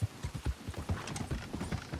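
Horse hooves clip-clop in Red Dead Online, a loud, close, regular gait of thudding hoofbeats on hard ground repeating steadily throughout.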